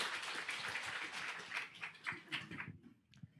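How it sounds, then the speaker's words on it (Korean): A church congregation claps at a baptism service, a soft, quick patter of many hands heard from a distance that thins out and stops after a few seconds. "큰 박수로 축하를 합니다."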